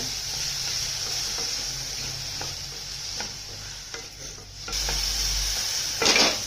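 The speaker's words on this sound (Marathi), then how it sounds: "त्यातच आता हे वाटाणे पण आता थोडे भाजून घ्यायचे, म्हणजे नरम करून शिजवून घ्यायचे थोडं।" Peas and green chillies roast in a pan for mini samosa filling, a soft continuous sizzle broken by repeated scraping stirs of a utensil against the pan, with a louder clatter at the end.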